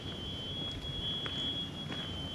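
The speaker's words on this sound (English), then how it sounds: "the screeching of alarms" Alarms ring through a tornado-damaged Oklahoma town during a power outage, a thin, constant high-pitched electronic tone over a low rumble of wind and ambient noise, with no voices.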